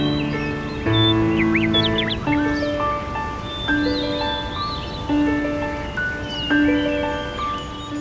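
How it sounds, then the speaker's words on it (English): Birds calling along fertile Alaskan shores: a dense chorus of overlapping whistles, chirps and harsh caw-like cries, some near and some distant, continuing without pause over a steady outdoor background. "Birds are drawn to the newly fertile shores, where they can mate and feed."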